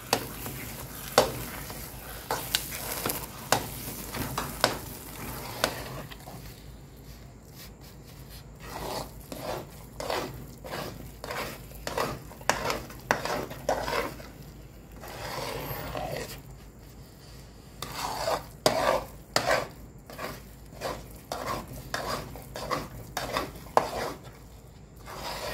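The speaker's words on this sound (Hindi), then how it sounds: "और पनीर को इसमें मिक्स कर देंगे।" A spoon scrapes and stirs paneer into pumpkin halwa in a pan. Irregular clinks and scrapes against the metal sit over a soft sizzle, continuing close-up for about twenty-five seconds.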